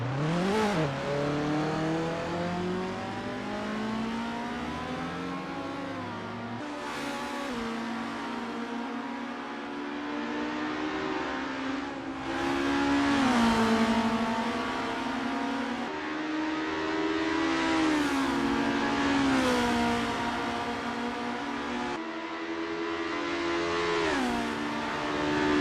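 Formula race car engines in Assetto Corsa scream through repeated rises and drops in pitch as gears shift, a continuous near and loud drone of racing with no talk.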